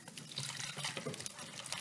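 Liquid poured slowly into a chocolate batter during home baking, a soft continuous splashy trickle lasting under two seconds, close by and fairly quiet.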